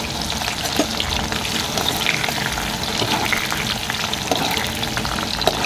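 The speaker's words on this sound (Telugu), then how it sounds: "ఇక్కడికి తాలింపు వేసేసుకున్నాం ఆనియన్ పచ్చిమిర్చి" Onion and green chilli fry in hot tempering oil with roasted seeds, a dense, continuous close sizzle with scattered crackles and occasional stirring clicks, with no talking.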